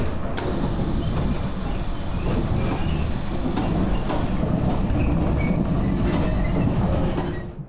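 Interior of a 50-year-old Taiwanese express train under way, a loud continuous rumble with rhythmic wheel clatter and occasional squeals and clicks, heard close from inside the carriage.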